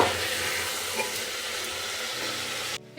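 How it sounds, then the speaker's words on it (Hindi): Water pours into a pot of chickpea curry cooking on the stove, a steady close splashing and sizzling rush that stops abruptly near the end. "तो इसमें पानी डालूंगी तभी पकेगी।"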